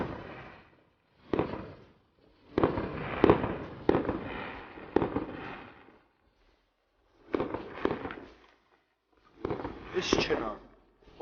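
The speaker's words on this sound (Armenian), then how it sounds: "Ամբողջ քաղաքի համար նախատեսված հրավառությունը 2 ժամ շուտ եղավ" A city fireworks display bursts in several clusters of sharp explosive cracks and crackling pops, loud and fairly close, separated by brief lulls, with voices talking over parts of it.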